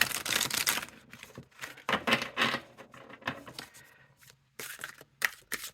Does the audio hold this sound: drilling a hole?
no